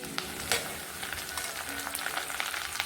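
Dried mint hitting hot peanut oil for a mint-coriander pickle, giving a steady close sizzle and crackle with a few sharper spits and stirring scrapes, no talk over it.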